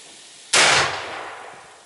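Rifle fired at a long range shooting session, a single sharp, loud report that bursts suddenly and then rings off in a long, fading decay.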